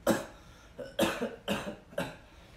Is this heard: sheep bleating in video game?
no